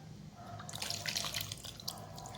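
Dissolved liquid is poured into a pot of drumstick sambar, a soft, steady splashing and trickling of liquid up close with no voices.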